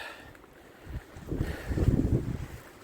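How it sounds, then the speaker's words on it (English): Strong wind at a canyon campsite with a tent pitched, gusts buffeting the microphone as low rumbling bursts that build and swell louder toward the end. "It is way too windy."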